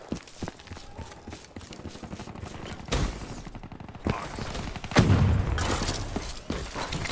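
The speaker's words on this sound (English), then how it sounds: "That's a teammate running with a fully automatic sniper rifle." Fully automatic sniper rifle fire in the Black Ops 3 beta, rapid cracking shots under busy game noise, with heavier loud bursts near three and five seconds.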